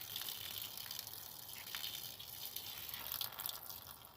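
White vinegar gushes and splashes out of a rusty QT50 motorcycle fuel tank, a close, continuous pouring rush with hissy spatter that swells slightly near the end, heard alone.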